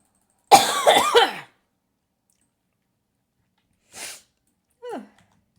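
A person lets out one loud, wet cough burst, then after a pause a faint breathy huff and a short throaty sound, close and otherwise silent.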